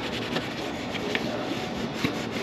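Steady close rubbing and wiping of a cloth over polished aluminum on an Airstream trailer, clearing black polishing residue, with a continuous soft scrubbing texture and a few sharper squeaks and scrapes.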